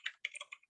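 Keys on a computer keyboard are typed to enter a command into the Windows command prompt, a short burst of five or six quick, crisp clicks close by with no talk.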